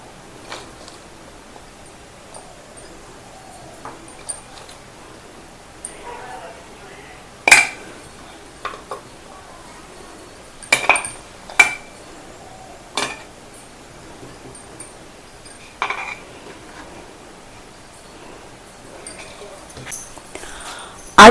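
Cut plant pieces dropped by hand into a bottle for a homemade herbal hair oil, giving sparse, light taps and clinks against glass at irregular intervals in an otherwise quiet room.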